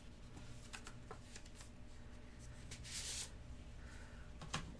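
A small pouch from a Rav Vast B Kurd drum unboxing is handled and opened: soft, steady rustling and crinkling with a brighter crackle midway and a light tap near the end, close and fairly quiet.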